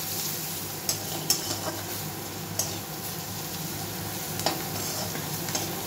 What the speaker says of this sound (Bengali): হালকা করে আমি একটু নাড়াচাড়া করে নিলাম।